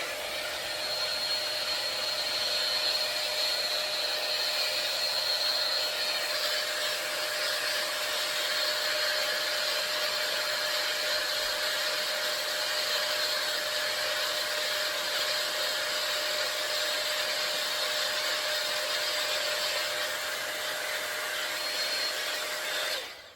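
Air curl styler blowing hot air onto thin, fine hair, a steady close whooshing hum with a faint whine that runs unbroken for over twenty seconds before cutting off at the end.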